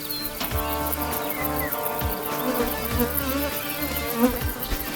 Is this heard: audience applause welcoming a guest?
no